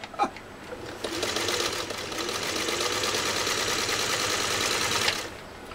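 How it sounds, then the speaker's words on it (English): A Singer 301A sewing machine stitches vegetable-tanned leather, starting with a click and then running at a steady, fast, even whir for about four seconds before stopping. "watch how easy it sews this vegetable tan leather"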